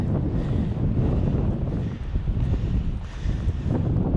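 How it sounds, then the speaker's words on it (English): Strong wind blows outdoors at a hilltop campsite near a tent, buffeting the microphone with a constant loud, low rumbling roar and gusty surges. "gotta find a spot where the wind isn't blowing as much to make food."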